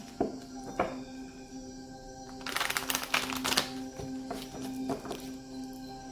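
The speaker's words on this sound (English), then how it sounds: "One last shuffle." Tarot cards riffle and slap together in a quick shuffle, a dense crackling flurry in the middle with lighter taps before and after.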